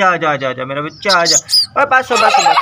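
High, repeated chirps from a rain-soaked baby bird sound up close, interleaved with a person speaking softly nearby.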